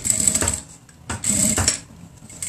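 A sewing machine stitches velcro onto a fabric ecobag-style bread bag, running in two short, close bursts of rapid mechanical stitching with a brief pause between them.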